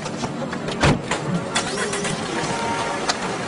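A car engine cranks and catches before being parked, a loud rumbling turnover with bursts of revving that settles into a steady idle, with no talking.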